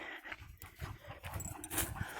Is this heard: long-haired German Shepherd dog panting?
yes